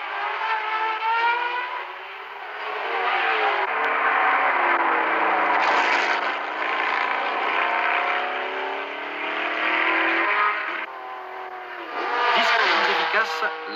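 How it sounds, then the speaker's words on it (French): A Porsche 908 race car at the 1972 Le Mans 24 Hours, its engine howling loud and continuous with rising and falling pitch as it passes, under a commentator's voice. "La Porsche 908 de Jost Weber."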